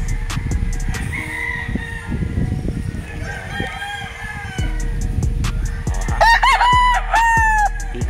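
A yellow-legged Dutch gamefowl rooster at a game farm in Tanay, Rizal, crows loudly and close near the end, following quieter clucks and farmyard bird calls against a low background rumble.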